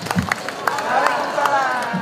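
An audience applauds a silat beksi martial arts performance at a community gathering, with scattered sharp claps and a murmuring crowd mixed with a voice over a loudspeaker.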